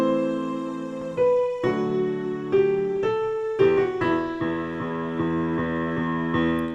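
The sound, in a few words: piano playing low E eight times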